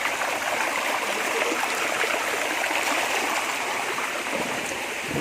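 A clear mountain river flows steadily in a constant, even rush of running water, close by and alone, with no voices.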